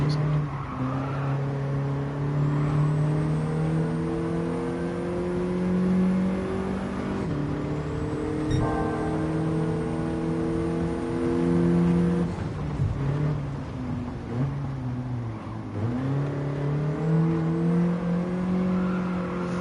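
A race car in Gran Turismo 7 brakes, its engine whine sliding down and back up with faint tire squeal, a continuous mid-loud game soundtrack without clear talk.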